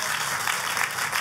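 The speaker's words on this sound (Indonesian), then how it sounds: "kalau mau tepuk tangan yang paling meriah" Dense, sustained clapping from a church congregation during an Easter sermon, a steady wash of many hands filling the short moment without any voice over it.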